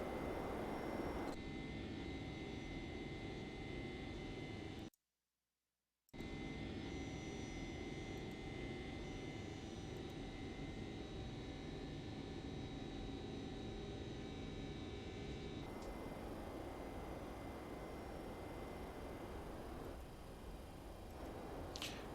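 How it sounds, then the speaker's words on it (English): Boeing 767-300 jet engines in the X-Plane 11 flight simulator, a steady, loud broadband drone with a faint high whine, briefly cutting out to silence and then resuming, its upper hiss dropping away later. "that's probably how the engines would sound"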